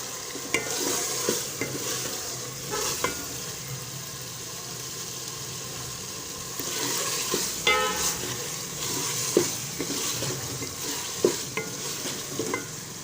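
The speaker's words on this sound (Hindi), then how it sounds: "आँच को करते हैं तेज़ और थोड़ी देर इसकी बुनाई करते हैं।" Bell pepper and potato curry being stir-fried over high heat, with steady sizzling and repeated scraping, clattering strokes of a spoon against the pan, loud and close.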